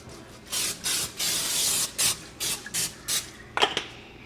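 Cooking spray hisses onto a cookie sheet in a string of short, close bursts, one long spray followed by several quick puffs, then a brief clatter of the pan.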